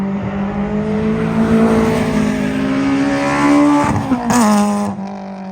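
An engine-swapped Toyota Starlet racing at Knockhill circuit, its engine holding a loud, steady high-revving drone, then a brief gear change and rising revs before the note drops away near the end.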